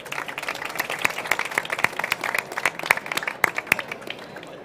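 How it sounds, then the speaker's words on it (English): A conference audience applauds a panel on corporate innovation, with dense, steady clapping that holds evenly throughout, sharp individual claps standing out above the crowd. "Big round of applause for the panel on corporate innovation."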